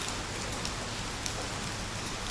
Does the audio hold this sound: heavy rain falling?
yes